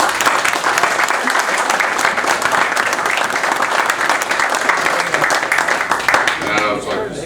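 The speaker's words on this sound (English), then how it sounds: "Let's give them all a round of applause." A crowd applauds the VIPs and officials at a Lillian Hill Day Congressional Gold Medal ceremony for the Civil Air Patrol, giving steady, dense clapping at full strength throughout before it thins slightly at the end.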